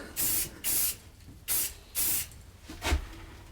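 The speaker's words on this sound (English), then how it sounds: "we'll come back in just a second and we'll spray the rest of this here" Short spurts of spray finish are applied to a pine woodshop sign, four distinct hissing bursts in a steady rhythm with brief pauses, followed by a fainter puff, close and fairly loud.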